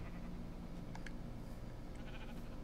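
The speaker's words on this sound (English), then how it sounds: "I hear it. I hear the sheep." Sheep bleat faintly a few times inside a video game, short distant calls over a steady low background hum.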